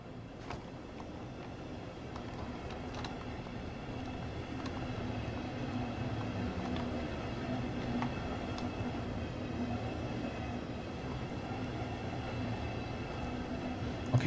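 Simulated VVO BR 146 electric locomotive in Train Sim World 2 reversing slowly on the Dresden–Riesa line, a steady low rumble and rolling hum with faint clicks, continuous and even throughout, no talking.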